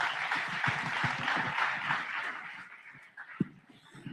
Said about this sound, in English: Could I get a big round of applause for our panel?